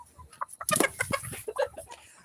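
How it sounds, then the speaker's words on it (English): A farm chicken clucks and squawks in agitated, uneven bursts while being caught, the calls close and fairly loud, with rustling and scuffling in between. "Lewis, you're laughing at me trying to catch a chicken?"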